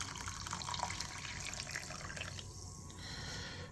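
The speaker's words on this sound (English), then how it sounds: "So now we're going to take our hot water, put it in my bowl." Hot water is poured into a bowl for cleaning sterling silver jewelry, a soft continuous splashing and trickling of liquid, faint and steady, with no voices.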